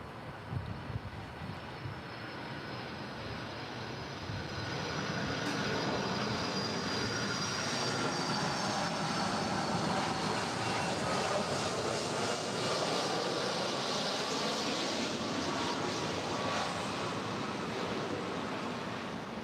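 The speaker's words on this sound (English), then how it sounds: "It's a 26-year-old Boeing 757-200." The engines of a 26-year-old Boeing 757-200 at LAX rumble at a distance, then swell into a broad, steady roar that holds for the rest of the stretch.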